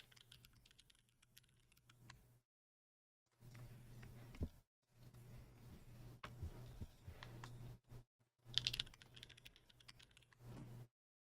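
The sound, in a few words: typing on QK Alice Duo keyboard with Bsun Dragon switches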